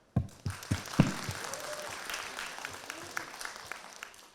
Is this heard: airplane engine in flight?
no